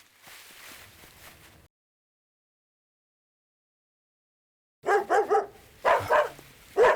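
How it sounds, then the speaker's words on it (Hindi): Dogs bark in a Hindi-dubbed horror movie scene: after a faint rustle and a long silence, several sharp nearby barks come in quick bursts, loud and with no talking over them. "अपने डॉग्स भी वही देख करके भौंक रहे हैं।"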